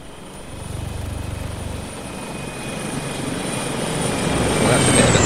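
A helicopter from the military game Arma 3 roars past in a flyby, its broad rotor and engine noise building steadily louder over several seconds with no talk over it.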